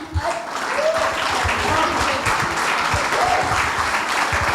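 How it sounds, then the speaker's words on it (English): Applause rises and holds steady for a group of children after a kids' public speaking event, with a few voices calling out over the clapping. "Can we have a round of applause for all of them?"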